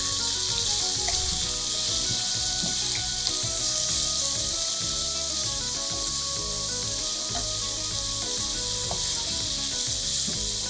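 Ingredients for Alfredo pasta sizzling in hot oil in a pan, a loud steady hiss running the whole time with scattered scraping and stirring clatter, no voices.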